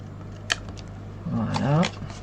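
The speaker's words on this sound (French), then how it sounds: "les petits bouts qui dépassent ici, hein, on va venir les couper tout simplement à la paire de ciseaux" Scissors trim the small protruding bits of paper off a handmade Valentine's craft box, with a few crisp close snips and a voice murmuring briefly between the cuts.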